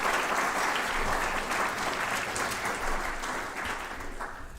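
Sustained applause from the audience at a college student awards ceremony, a thick, even roar of many clapping hands lasting several seconds and easing off slightly toward the end.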